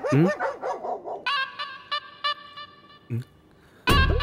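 A person imitates a dog in a comedy scene, giving a run of loud, sharp barks and yips in quick bursts with short gaps, then a final loud outburst. Each bark is a human voice copying the sound.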